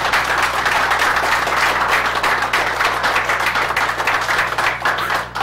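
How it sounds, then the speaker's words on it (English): An audience at the Amiwest Show 2013 Amiga computer event gives a dense, sustained round of applause, loud and even from start to finish. "So I think a big round of applause to these guys"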